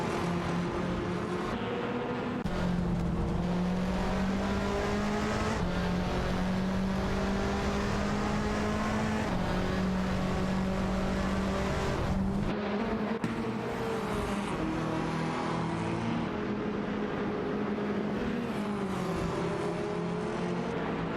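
Racing cars in a video game, Honda Civic and Ford Focus, drone continuously with sustained engine tones that shift pitch as they accelerate and change gear, a layered mechanical hum running throughout.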